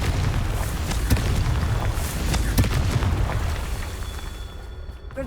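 Confringo explosion spells in Hogwarts Legacy go off as repeated booming bursts, with sharp blasts standing out over a dense rumbling battle bed, loud and close.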